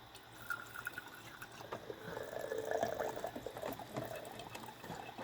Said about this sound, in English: I'm going to put the water in this jar and I will dump it out.